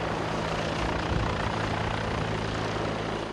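A T129 ATAK attack helicopter produces a continuous, loud rotor and engine drone with a steady low throb, dense broadband roar throughout, no voices.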